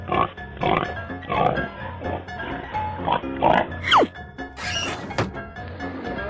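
A pig oinks in a run of animal sound effects, several short grunting snorts in a rough rhythm, mixed with a few sharp thunks and a sliding whistle-like tone, with no talk.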